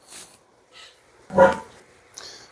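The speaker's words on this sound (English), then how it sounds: "Well, I guess I'll go play with the dog." A dog gives a few scattered barks and yips in a quiet room, one louder bark standing out among softer, shorter sounds, with no talking.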